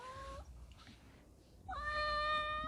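A cat meows twice in a kitchen, a short call at the start and a longer, louder drawn-out meow near the end, with quiet room noise between.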